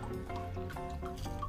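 Lime juice poured behind a bar while mixing a cocktail, a close liquid splashing and trickling into a glass or jigger with small dripping pulses.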